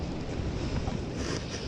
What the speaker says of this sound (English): this wind is absolutely terrible. I mean, it is blowing. It's like 20-mile-an-hour gusts.